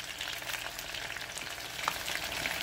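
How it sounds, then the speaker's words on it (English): Onions, tomato, garlic and chili peppers fry in a pot, a steady close crackling sizzle with occasional stirring scrapes and no talk. "I'm gonna add the chili peppers to it"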